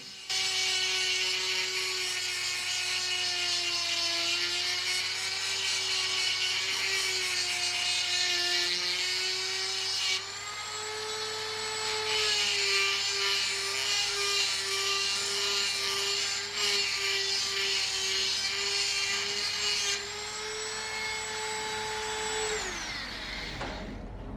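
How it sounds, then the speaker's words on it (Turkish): A Dremel engraving tool runs a grinding stone back and forth across a part, a loud, steady high-pitched whine with slight shifts in pitch that spins down at the end. "taşı parçanın üzerinde gezdirirken yavaş yavaş ileri geri salınım yaptırarak tüm taş yüzeyinin parçaya tamamen temas ettiğine emin oluyorum"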